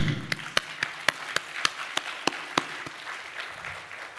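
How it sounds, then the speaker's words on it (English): Sparse applause from a conference audience at a mediation session, a dozen or so distinct sharp claps spaced out over a few seconds, fairly quiet and with no talk. "Can I just invite everyone to give them all a round of applause?"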